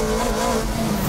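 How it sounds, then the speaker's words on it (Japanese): A Toyota MR-S and a Nissan Silvia race hard up a mountain pass, producing a loud, continuous engine roar with a steady drone that runs throughout. "土屋 MRS は目いっぱいの走りで逃げるが、 S 字の立ち上がり加速で谷口一号がその差を縮める"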